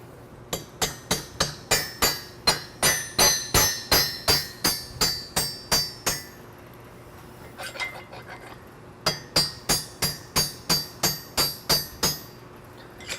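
A hammer drives a spring pin through the leg hole of an AAI Elite Reflex balance beam: rapid, even metallic strikes in two bursts separated by a short pause with some faint clinking, close and fairly quiet.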